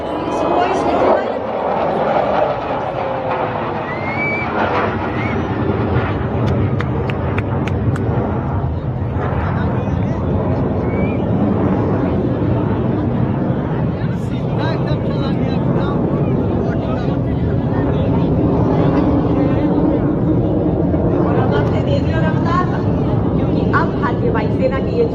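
Multi-role air dominance fighter jets fly in formation over the Republic Day parade, giving a sustained loud jet roar that builds and fades under continuous commentary from a parade announcer.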